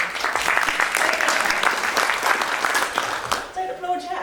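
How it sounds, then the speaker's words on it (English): Audience applause at a lecture in a historic meeting house, a full wash of clapping that fades out near the end as a voice begins speaking. "Don't applaud yet, I haven't said anything."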